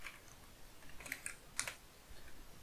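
Faint, quiet keystrokes on a computer keyboard, a short irregular burst of a few clicks close by with no talking.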